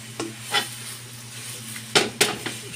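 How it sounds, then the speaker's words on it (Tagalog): Pechay is sautéed with oyster sauce and ground black pepper in a pan. A spatula scrapes and knocks in a few separate strokes over a faint sizzle, close and moderately loud, with no talk. "Then continue saute."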